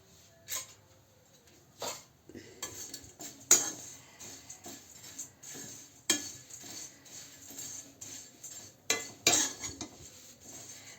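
Flattened rice (chiwda) dry-roasted lightly in a bowl for homemade diet bhujia, with quiet, scattered clinks and scrapes of a utensil stirring at irregular intervals and soft rustling between them, no voices.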